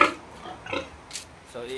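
Pigs oink and grunt in short bursts while being gathered for slaughter ahead of a community fiesta cookout, with background voices around them and the animals fairly close.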